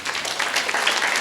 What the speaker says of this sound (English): Can we give a big round of applause to Babar Ali?